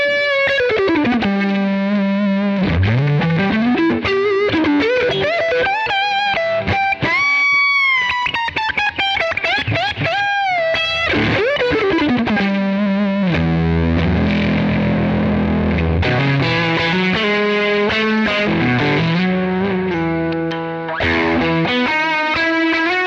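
Stratocaster electric guitar on the bright bridge pickup, playing a gritty, distorted lead with bends, slides and sustained notes, loud and continuous with no talking.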